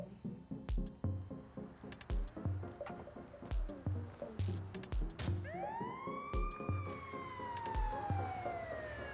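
An ambulance siren wails up and down in the FiveM game, sounding faint over repeated loud thumping beats.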